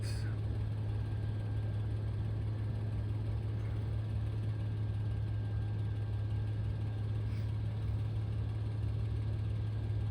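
A car's exhaust at idle gives a steady, low, droning hum, constant and unchanging, heard nearby with no voices.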